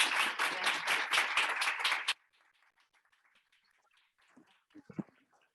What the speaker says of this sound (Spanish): démosle la cordial bienvenida a la doctora Anne y un aplausote bien grande